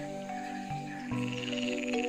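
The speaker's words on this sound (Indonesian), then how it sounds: "Yang pertama yaitu katak." A frog croaks in a few distinct, resonant calls with a buzzing, pitched tone, the second call starting about halfway through and running to the end, heard alone and close.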